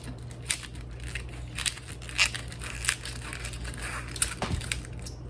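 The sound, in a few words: cutting and destemming collard green leaves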